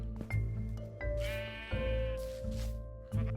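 Sheep in the Minecraft video game bleat several times in a row, loud and close, each call a wavering nasal tone with no voices over them.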